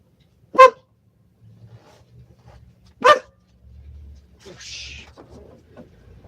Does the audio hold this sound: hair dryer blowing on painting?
no